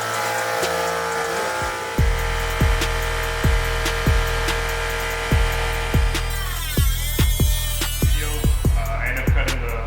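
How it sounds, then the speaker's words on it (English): A power saw cuts into the inner fender liner of a C8 Corvette, its steady whine broken by a run of sharp, rhythmic bursts as the blade bites through, close and fairly loud. "I ended up cutting the inside of the fender."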